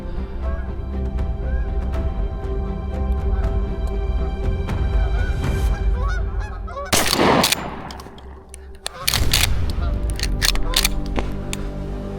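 Geese honk and call as they flare in to land during a goose hunt, followed by two loud shotgun blasts close by, with hunters talking.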